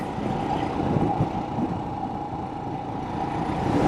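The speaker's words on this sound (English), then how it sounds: "Hey, we got some traffic going here today. This is Iowa's busiest intersection right here in front of us." Steady, dense traffic rumbles at Iowa's busiest intersection, with trucks and cars passing continuously at moderate distance and no pauses.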